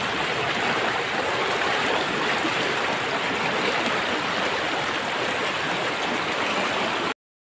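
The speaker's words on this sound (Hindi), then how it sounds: "काफी तेज धार चल रही है पानी की।" Fast-flowing water of the Betwa river, a steady, full rushing roar heard close by and alone, with no talking, until the sound cuts off at the end.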